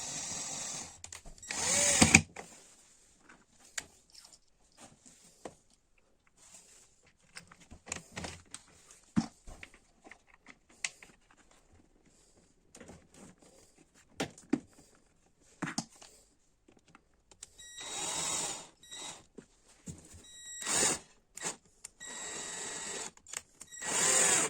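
A power drill drives screws into a window-cleaning battery backpack casing, short intermittent whirring bursts with clicks and handling noises scattered across a quiet background, louder runs near the start and end.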